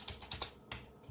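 A few quick clicks on a computer keyboard as a short word is typed, soft and close with uneven spacing, no voice.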